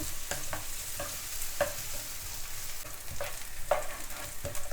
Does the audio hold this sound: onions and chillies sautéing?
yes